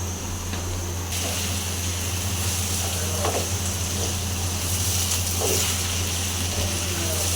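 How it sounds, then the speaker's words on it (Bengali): Rice for pilaf fries in a pan with ginger and garlic paste, making a loud, even, continuous sizzle up close with occasional soft stirring scrapes. "চালটা আমি ভালো করে ভেজে নেব"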